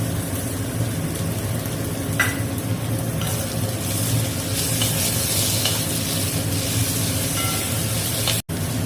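Ginger garlic paste frying with browned onions in a pan, a steady close sizzle with occasional stirring scrapes, ending in a brief sharp click.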